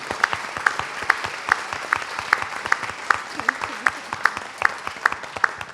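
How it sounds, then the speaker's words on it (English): A crowd claps steadily and briskly throughout, a sustained round of applause with sharp individual claps standing out. "A round of applause, please."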